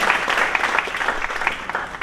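Applause from an audience at a university Internet of Things event, a continuous moderate patter of many hands with slight rhythmic swells.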